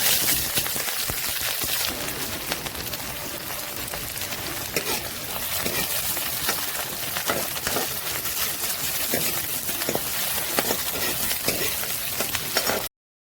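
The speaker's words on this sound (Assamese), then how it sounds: "মই পিঁয়াজৰ লগতে কাটি থোৱা জলকীয়া আৰু প্ৰয়োজন অনুসাৰে নিমখ আৰু আদা নহৰু পেষ্ট দি 1 মিনিটমানৰ কাৰণে ভাজিলোঁ" Onions with chopped chili, salt and ginger-garlic paste fry in hot oil, giving a loud, continuous crackling sizzle with dense spattering that holds steady before cutting off abruptly.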